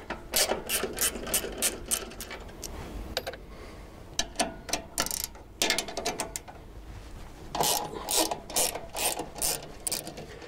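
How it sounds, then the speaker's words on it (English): Ratchet spanner, 19mm, clicking as it undoes two bolts on a GreenMech Arborist 150 wood chipper; rapid bursts of close, sharp ratcheting with short pauses between strokes, no voices. "you need a 19mm spanner and you've got two bolts to undo."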